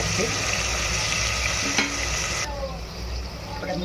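Tomatoes being sautéed in a pan for a cashew curry, with a steady frying sizzle and a brief clink of stirring before the sizzle drops quieter.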